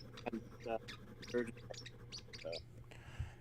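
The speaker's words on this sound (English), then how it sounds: "no, it's my bird" A small bird chirps and tweets in short bursts close by, with people talking quietly underneath.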